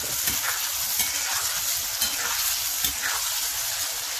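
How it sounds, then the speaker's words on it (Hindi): Green peas frying in hot oil for a Sindhi cauliflower and potato fry, a steady close sizzle with small irregular pops and crackles throughout. "मटर तेल में डालते हैं तो उड़ने लगते हैं"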